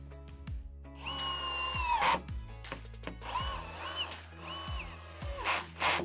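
A power drill drives screws through a wooden post into the log planks of a Karibu Stockach garden shed, in several short whirring bursts that rise and fall in pitch, with brief pauses between them.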